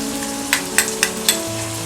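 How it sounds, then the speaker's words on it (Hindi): Vegetables frying in a pan with turmeric, red chili powder and rock salt, a steady soft sizzle with a few sharp clicks of stirring spaced about a quarter second apart. "वेजिस को हम 5 मिनट तक अच्छी तरह से फ्राई करते हैं।"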